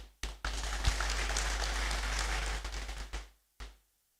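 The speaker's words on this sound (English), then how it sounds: "You may applaud yourselves." Audience applause at a university congregation (graduation) ceremony: a dense, sustained wash of clapping from a large crowd, steady for about three seconds before tapering off, with no talk over it.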